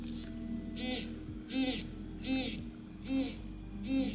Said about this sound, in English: Noise, by the way, is my shot scope. Whenever I charge it,